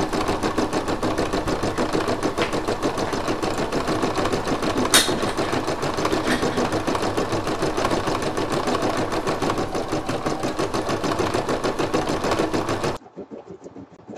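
An embroidery machine stitches a design into a towel with a rapid, even, mechanical chatter, close and steady for about thirteen seconds before stopping abruptly.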